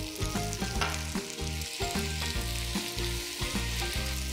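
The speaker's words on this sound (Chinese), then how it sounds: "將少少嘅老抽落鍋。" Beef ho fun noodles stir-fried in a wok with a splash of dark soy sauce, a steady loud sizzle broken by rhythmic scraping and tossing strokes from a spatula, close up with no talking.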